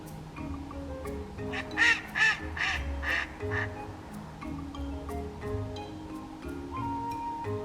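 Several ducks quack in loud bursts, some overlapping in a short cluster, then thinner calls scattered over a steady low outdoor rumble, with no talking.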